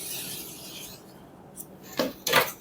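Chalk being rubbed off a classroom board, heard as a soft scratchy hiss early on, then two short loud rasping swipes near the end.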